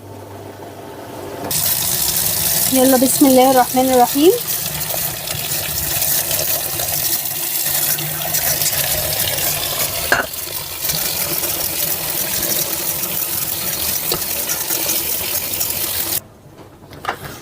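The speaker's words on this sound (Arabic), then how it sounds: "هبدا ان انا اصفيها واكب عليها ميه ساقعه" Water pours and splashes steadily into a pot as boiled potatoes are drained and rinsed with cold water, with a brief murmured voice near the start and a faint clatter before it stops.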